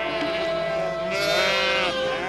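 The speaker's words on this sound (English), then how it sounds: "now home to vast sheep herds" Sheep bleating in a vast herd on parched South African farmland, several overlapping wavering bleats sounding close and loud throughout, one voice rising sharply partway through.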